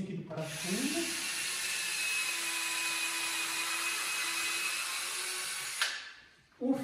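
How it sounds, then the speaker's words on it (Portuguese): A drill bores a pilot hole for a screw into a thick piece of wood while building a workbench from reused materials, giving one steady, high whine that runs close and loud for about five seconds before stopping. "Agora eu entro com o furo de referência aqui do parafuso"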